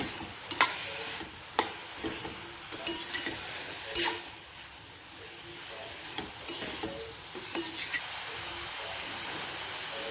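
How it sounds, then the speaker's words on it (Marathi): Asafoetida, turmeric and red chilli powder are stirred into a pan of home-style zucchini, with intermittent scrapes and spoon clinks over a faint sizzle, close by and irregular, no talking. "सगळ्यात प्रथम हिंग, थोडीशी हळद, आवडीनुसार लाल तिखट चांगलं हलवून घेऊया"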